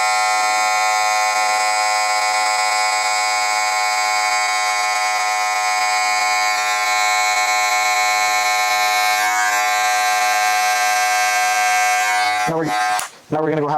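Electric hair clippers cutting the bottom line of a fade haircut, running close as a loud, steady, tonal buzz that holds for most of the stretch before a brief break and a few stuttering bursts at the end.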